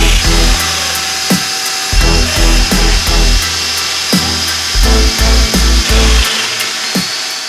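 A power tool cuts domino mortise holes into wood boards for a desk top, its motor whining loudly and close in repeated bursts separated by sharp clunks and short pauses.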